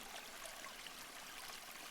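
Water trickles in a small rustic DIY fountain made of cement and styrofoam, a faint, continuous soft splashing with no voices.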